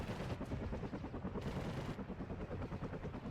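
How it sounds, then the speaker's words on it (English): 20mm rotary cannon firing in the Warno video game during a battle, a dense rapid rattling burst rolling continuously over a low background rumble, moderately loud with no talking. "The gun on this is a rotary cannon at 20 mil."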